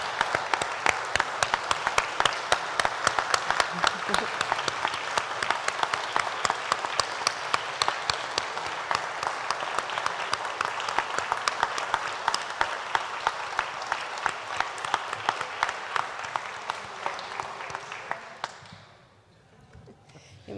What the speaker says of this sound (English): please join me in another round of applause for the 2022 class of the Ohio Senior Citizens Hall of Fame